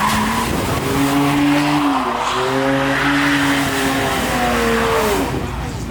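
Car tires squeal loudly at a car show in Queens, a sustained wavering screech of skidding with an engine roar behind it, while voices talk faintly in the background.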